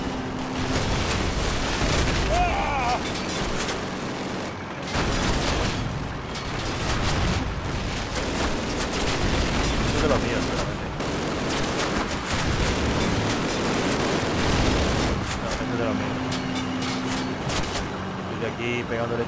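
Call of Duty gameplay with dense gunfire and explosions, repeated bursts and booms in a busy, loud mix with brief lulls, while a player talks over the action.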